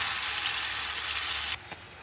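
Coarsely ground onion mixture hits hot oil in a pan, giving a loud, close, hissing sizzle that holds steady and then drops abruptly to a softer crackle.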